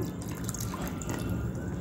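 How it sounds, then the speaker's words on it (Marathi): Water poured into a bowl of semolina and curd batter, a steady close splashing trickle that runs unbroken for a couple of seconds. "आणि याच्यात पाणी टाकून"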